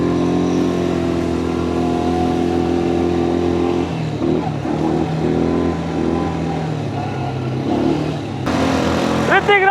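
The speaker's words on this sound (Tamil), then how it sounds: "வண்டி வருது வண்டி வருது வண்டி வருது" Vehicle engine approaching along a road on an adventure ride in Wayanad, Kerala, a steady mid-pitched drone rising as it nears, heard under voices and background music.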